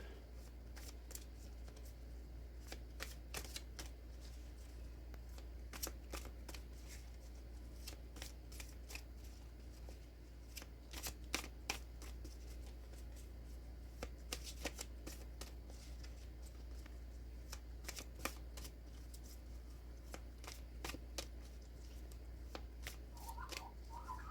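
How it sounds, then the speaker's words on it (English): Tarot cards are shuffled by hand, a long run of quick, close riffling bursts repeating irregularly in a quiet room. "So let's pull a few more cards and let's see what message Spirit has to unfold."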